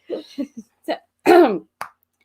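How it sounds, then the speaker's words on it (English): A person gives a little cough with a throat-clearing quality during a live chat, several short rough bursts alone in a quiet room with no talk around them. "I had a little cough."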